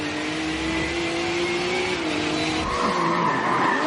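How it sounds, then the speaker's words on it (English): Race cars in the Forza Motorsport 7 video game skid with loud, sustained tire squeal over rising and falling engine whine, continuous and close throughout with no talking. "Ominous skies roll in as car parts rattle and vibrate."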